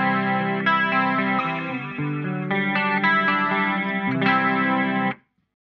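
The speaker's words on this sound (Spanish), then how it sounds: "Escuchá el chorus, mismo, idénticos parámetros," Electric guitar through an Eventide H90 Tri-Stereo Chorus set without detune plays a few sustained chords and notes, shimmering and wide, before stopping abruptly into silence; no talk is heard.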